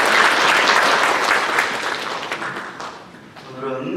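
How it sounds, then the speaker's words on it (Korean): A church congregation claps to welcome first-time visitors during a worship service; the applause is loud at first, then thins and fades, with a voice speaking briefly near the end. "박수로 환영합니다."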